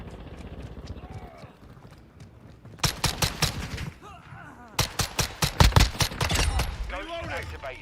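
Rapid automatic gunfire from Call of Duty Modern Warfare II, using an X12 pistol, comes in two loud close bursts of evenly spaced shots over battlefield ambience, with a voice talking between them.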